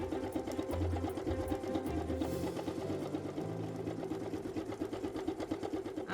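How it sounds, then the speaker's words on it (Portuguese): Pfaff Creative Ambition 640 sewing machine stitching a zigzag seam, a continuous close motor hum with rapid rhythmic needle clatter for several seconds, no voices. "Meu tecido aqui abaixo da sapatilha e venho costurando aqui através da tecla Start Stop."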